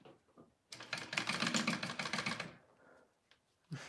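A sewing machine base stitches a fabric Winslet wallet in one continuous close run of fast, even mechanical clatter lasting about two seconds, with faint handling noises before and after.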